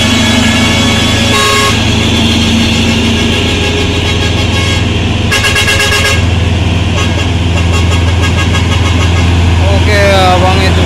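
Convoy of CPO tanker trucks climbing an uphill road, with loud engine drone and a few short horn blasts used as signals, under nearby voices talking.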